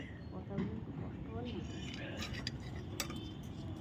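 A child bangs and clinks a ladle against a kadai wok in short, scattered metallic taps, quiet and close, with a few brighter clanks standing out over a soft background murmur.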